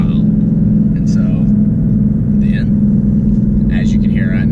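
A 2018 Ford Mustang fitted with a full exhaust lets out a steady, deep low rumble that holds throughout, while someone talks over it.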